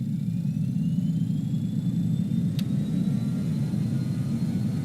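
A BAe 146 airliner's four jet engines roar steadily at takeoff power in Microsoft Flight Simulator 2020, a constant loud rumble with a thin rising whine and one brief click partway through.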